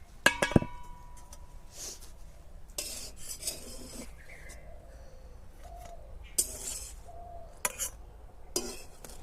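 A metal utensil scrapes and clinks in a dry pan as oil-free fried brinjal slices are lifted out, with sparse, uneven clatters and taps at close range and quiet gaps between.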